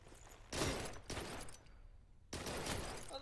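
Gunfire from the PS4 shooter Blue Estate comes in bursts, with dense rapid volleys and a short lull before another loud burst resumes.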